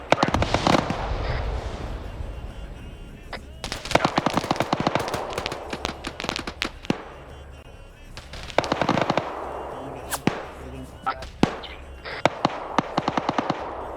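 SVD rifles and other weapons fire in bursts and single sharp cracks during an ambush in a military video game, dense at first, then easing and picking up again, with a faint murmur of voices.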